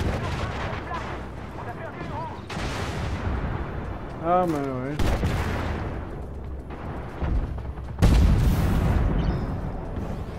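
Cannon fire and explosions from a vehicle combat video game featuring the LAV-600, heavy booming bursts and rumbling blasts recurring throughout, with someone talking over the action.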